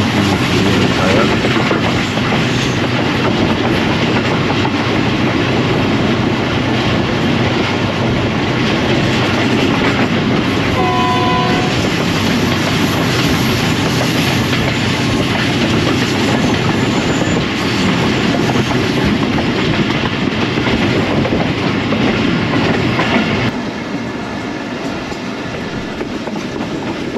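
Passenger express train on a single-line railway between Lahore and Rawalpindi, near Rumeli station, with steady loud rumble and rhythmic clickety-clack of wheels on rails throughout, a brief squeal midway, easing off slightly at the end as it slows.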